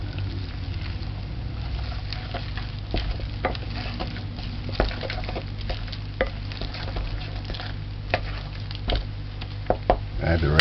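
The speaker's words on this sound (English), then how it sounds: "You just stir it in." A spice bun mixture is stirred in a bowl, giving a steady scraping, sloshing rhythm with occasional sharper knocks, close and moderately loud with no talk.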